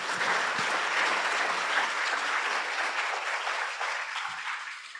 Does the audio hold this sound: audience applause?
yes